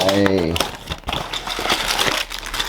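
Crinkling and rustling of packaging as a small ten-baht toy mystery box is opened, a steady crackly handling noise up close while someone talks throughout.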